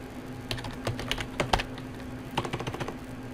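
Quick bursts of keystrokes on a computer keyboard, close and clear, with short pauses between clusters of clicks.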